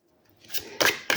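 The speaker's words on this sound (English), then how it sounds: "See, it shuffles perfectly." A tarot card deck is shuffled close by, with a soft rustle followed by two sharp, bright bursts of cards riffling together.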